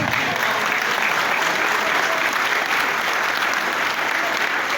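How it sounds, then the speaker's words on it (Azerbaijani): Loud, sustained applause from a large crowd, a dense unbroken roar of clapping held steady throughout, offered at a ceremony in honour of martyrs. "öncə bir gürültülü alqışlar ucaldaq"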